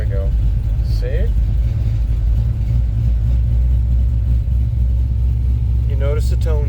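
Car engine raised to about 1,000 rpm in an oil-flow check, a steady low rumble that grows slightly louder and smoother, heard close with someone speaking briefly over it.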